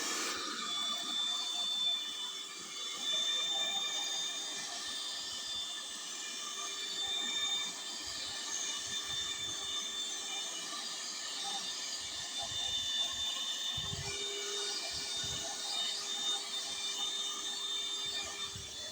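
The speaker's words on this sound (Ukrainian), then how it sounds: "Ось я вам для прикладу покажу, як він пилососить." A handheld car vacuum cleaner runs steadily as it sucks up a heap of sand. Its high-pitched motor whine is constant, with scattered gritty rattles and pops as grains are pulled in.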